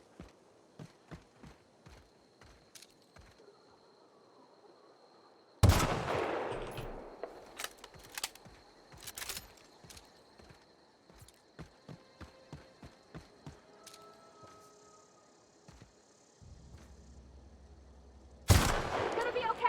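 Gunshots in The Outer Worlds during a tough fight: rapid bursts of sharp shots and loud blasts, some close and heavy, others lighter and quicker, mixed with footsteps and game effects.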